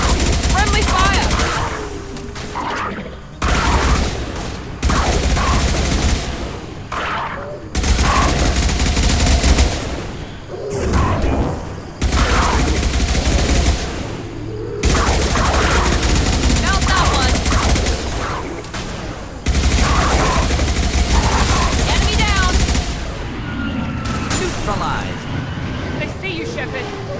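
Repeated gunfire bursts and heavy automatic weapon fire in the sci-fi shooter Mass Effect Legendary Edition, loud and close, coming in dense volleys with brief gaps, over a busy combat backdrop.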